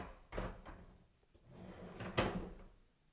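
A Mill's Pride base kitchen cabinet drawer slides on its runners, with two soft rolling pushes, each ending in a muted thump, close and quiet.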